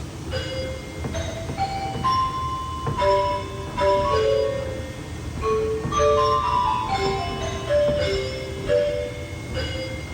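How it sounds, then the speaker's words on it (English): A three-manual pipe organ's celeste stop plays a slow melody of bright, bell-like single chiming notes, each ringing briefly and overlapping softly, with no talking. "And finally we have a Celeste"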